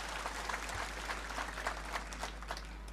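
A crowd applauds at a public political gathering in Baramati, steady dense clapping that holds throughout.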